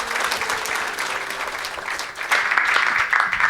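Congregation at a church service applauding and cheering, a steady dense wash of clapping with raised voices throughout, growing slightly louder near the end.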